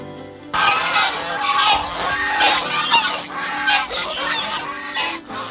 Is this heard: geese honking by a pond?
yes